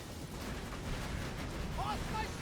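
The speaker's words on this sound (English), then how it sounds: "Grenade." A grenade goes off in Borderlands 2, a sustained broadband rumble filling the clip amid heavy game noise and gunfire, with a brief whistling tone near the end.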